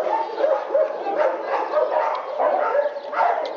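A dog gives a series of short, muffled barks and yips in quick succession, fairly close, with little else around.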